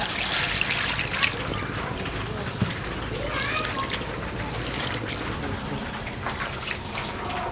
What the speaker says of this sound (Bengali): দিয়ে দেবো পরিমাণ মতো পানি।